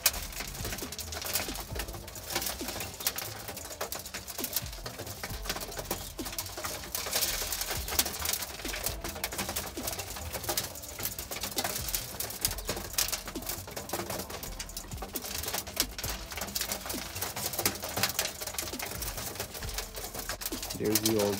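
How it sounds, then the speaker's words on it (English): Roller pigeons in a kit box coo steadily through a dense, continuous wash of background noise, their calls close and persistent with no clear pauses. "I added the two little birds to the kit box, and they are down there pecking at the food and eating"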